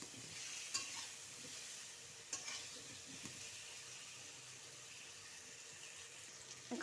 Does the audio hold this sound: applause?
no